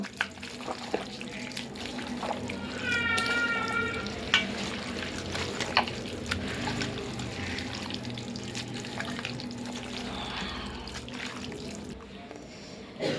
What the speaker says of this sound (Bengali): ভালো করে এখন আমি মেখে নেব।